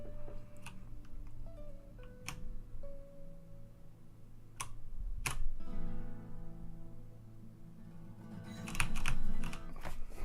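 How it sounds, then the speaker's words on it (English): Typing on a membrane computer keyboard, with a steady run of soft, close key taps and occasional sharper clicks over a low hum of background music from a game. "I feel like this is easier to play on a membrane keyboard than on a mechanical keyboard."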